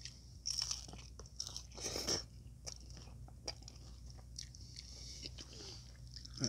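Crunchy cheesy tacos are bitten and chewed close up, with irregular crisp crunches and soft chewing smacks spread across a quiet background, no talking.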